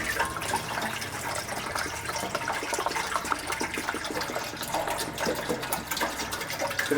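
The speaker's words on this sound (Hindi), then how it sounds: "जब वो गर्म हो जाती है उसमें 1 गिलास पानी के बाद बिस्मिल्लाह करते हैं, दूध डालते हैं।" Water and then milk poured into a heated cooking pot for sheer khurma, a steady continuous splashing gush filling the pot, close and fairly loud with no talking.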